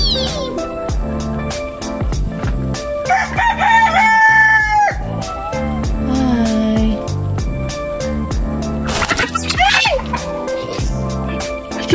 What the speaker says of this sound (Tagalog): Ito yung mga chicken.